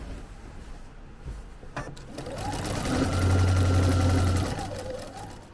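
A sewing machine stitching across the joined seam of bias tape on a quilted Christmas project, a fast mechanical whir that builds into a steady, close hum for a couple of seconds before slowing, with faint clicks before it starts.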